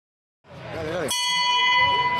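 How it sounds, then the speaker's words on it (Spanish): A boxing ring bell at a women's boxing gym in Campos, Mallorca, strikes once with a bright metallic clang that rings on steadily, cutting in after a short stretch of talk-like noise. "Así suena la campana."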